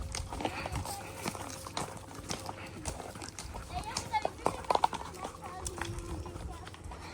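Pony hooves clip-clop steadily on an outdoor trail ride, close and moderately loud, with riders talking over the rhythmic footfalls throughout.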